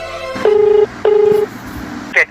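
A phone number is being dialed: two long steady keypad tones, each about 0.4 s, ring out one after another, followed by a short higher chirp. Faint room sound sits beneath.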